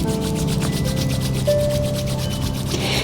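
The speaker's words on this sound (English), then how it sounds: "Start to bring the palms of your hands together and rubbing these" Palms of two hands rubbing together vigorously during a yoga practice, a continuous close dry swishing with a fast back-and-forth rhythm, alone without speech.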